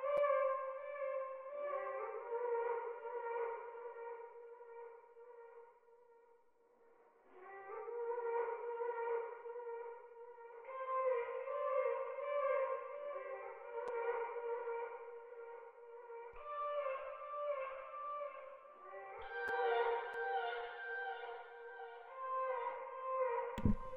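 A chopped vocal melody from a sample kit, arranged in FL Studio, plays in short sustained sung phrases with reverb, soft and alone.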